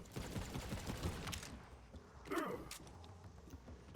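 Semi-automatic shots from the Bloodstar Beast gun in a first-person shooter game, a quick series of sharp reports followed by a mechanical clank, dense and close over continuous game sounds.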